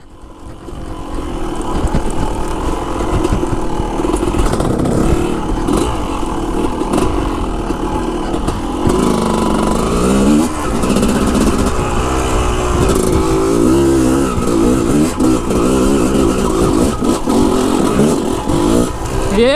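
A motorcycle engine lugs under load, a loud, close, rough low-pitched drone that wavers and shifts in pitch as the throttle changes, with no talk over it.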